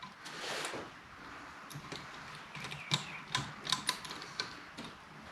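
A KD Tools valve spring compressor is cranked down on a 1966 Ford Mustang 289 engine, giving faint clicking and ratcheting ticks in an irregular series that grows busier toward the middle.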